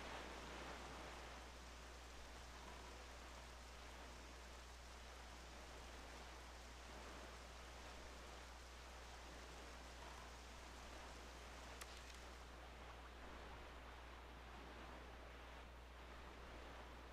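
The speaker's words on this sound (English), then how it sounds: "Rain." Steady rain falls in The Legend of Zelda: The Wind Waker as an even, faint hiss with a low constant hum beneath, unchanging throughout and without voices.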